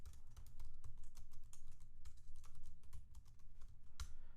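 Typing HTML code on a computer keyboard: a steady run of quick, close key clicks with uneven rhythm and a few louder strokes, heard alone without talk.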